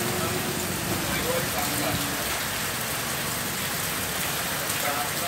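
Steady broadband hiss of rain falling during an unseasonal thunderstorm, pattering on a sheet-metal roof, continuous and fairly even throughout.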